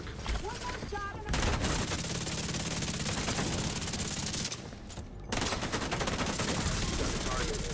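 Repeated gunfire from The Division 2 video game, continuous dense bursts with a brief lull midway before the shooting resumes loudly, with game voices and music mixed in.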